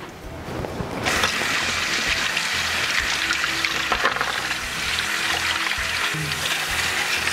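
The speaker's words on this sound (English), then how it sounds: "wash your hands." Running tap water while hands are washed in a home kitchen, a steady loud hiss of water starting abruptly after a second and pouring continuously, with faint handling sounds.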